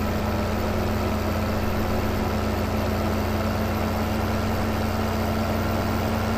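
A big tractor's engine idles in Farming Simulator 15, a steady, loud low drone with a constant hum and no change in pace from start to finish.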